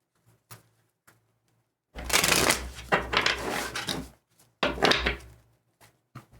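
Tarot cards riffle and slap together in a couple of loud, close shuffling bursts, separated by quiet gaps with a few soft taps.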